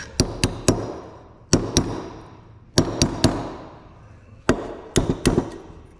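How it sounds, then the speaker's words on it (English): A hammer strikes a chisel against a brake part on a Z31 300ZX big brake kit with Brembo calipers, sharp metallic blows in clusters of two to three with ringing decay and pauses between. "we're going to use a chisel to basically cause the middle to fracture and move out of the way"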